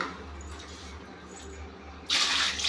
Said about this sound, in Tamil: ஆமாம், எல்லாம் தண்ணியில் போட்டு கழுவிட்டு இருக்கோம்.